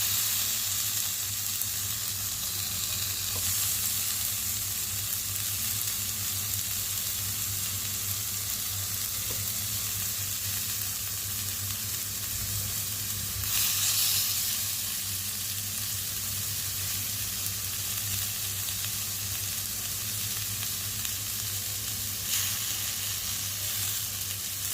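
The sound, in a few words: fish pieces frying on a tawa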